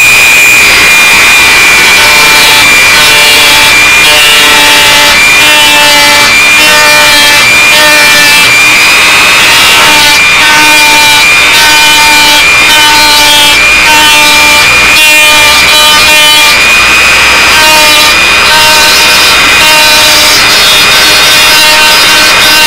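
A Dremel rotary tool grinds away trailing edge material during construction of a Windy Sidewinder, producing a loud, continuous high-pitched whine with shifting pitch that runs without a break and without speech.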